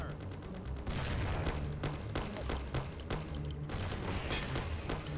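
Rapid bursts of gunfire in the Mafia video game, shots fired at a car's headlights, crackling loud and dense across the whole stretch with sharp repeated reports over a rumbling background.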